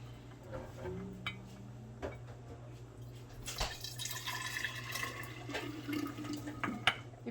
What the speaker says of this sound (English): I'm going to pour my milk straight through and measure it so I know how much milk I'm using.